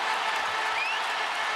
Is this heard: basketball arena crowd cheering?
yes